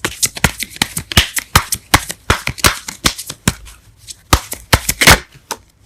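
Tarot cards are shuffled by hand for a reading, with a quick, uneven run of crisp riffles and sharp snapping flicks, close and clear with no talk.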